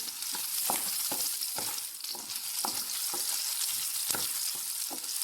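Onion and chili frying in a pan, a continuous sizzle broken by regular scraping strokes of a stirring spoon, close and clear with no talking.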